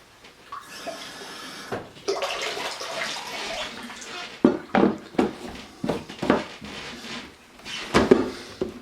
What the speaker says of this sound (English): I'm going to put about a quarter cup of water in here.